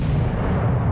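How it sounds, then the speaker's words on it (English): Naval guns firing in the World of Warships game, a dense, loud barrage of low booming blasts that fills the whole second without a break. "Just as we shoot all our missiles off, or guns off, he blows up"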